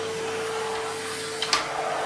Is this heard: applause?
no